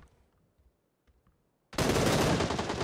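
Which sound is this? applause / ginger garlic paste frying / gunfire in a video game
gunfire in a video game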